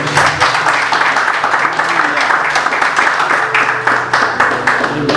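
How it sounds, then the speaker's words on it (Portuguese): A church congregation claps loudly and close at a family worship service, quick rhythmic hand claps packed together in a sustained burst, with voices mixed in beneath. "As palmas são para o Senhor Jesus."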